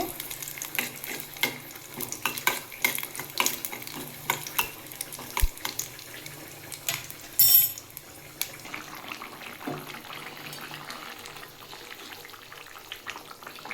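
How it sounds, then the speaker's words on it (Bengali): Panch phoron spices frying in hot oil for an elephant foot yam and fish curry, a soft continuous sizzle with scattered crackles and stirring scrapes, fairly quiet, with no talking. "আর একটু পাঁচফোড়ন দিয়ে ভেজে নেবো"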